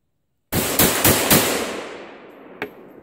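An SKS rifle fires outdoors: after silence, four quick loud shots ring out close together, each trailing into a long fading echo, followed by one fainter metallic click or shot near the end.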